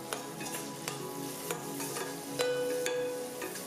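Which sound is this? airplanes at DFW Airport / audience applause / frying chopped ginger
frying chopped ginger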